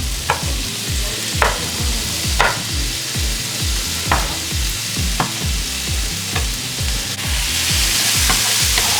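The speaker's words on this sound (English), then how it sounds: "we're just letting these saute a couple more seconds" Garlic and ingredients for a langoustine white wine sauce sauté in a pan with steady, close sizzling, while a utensil stirs and scrapes in a regular rhythm, each pass giving a sharp knock against the pan; no one speaks.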